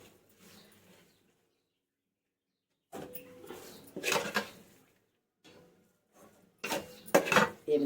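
A cooking vessel is picked up in a home kitchen with the gas just turned off, giving soft metallic clinks and scrapes of pots and utensils in scattered bursts between stretches of near silence.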